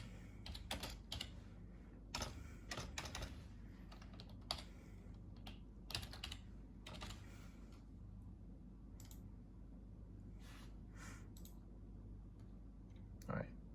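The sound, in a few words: typing on a computer keyboard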